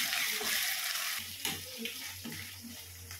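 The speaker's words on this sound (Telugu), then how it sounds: "ఇప్పుడు అల్లం పేస్ట్ వేస్తున్నాను." Ginger paste goes into a pan of well-fried onions for a broad bean curry, raising a steady, close hissing sizzle that swells in bursts as it is stirred.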